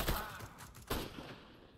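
AK rifle fire in CS:GO comes as two sharp, loud bursts of shots about a second apart, each with a quick crack and short rumbling decay.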